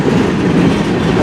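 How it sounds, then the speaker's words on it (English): A CN mixed freight train rolls past close by on the rails, a loud, continuous low rumble of wheels and cars. "That's a big train."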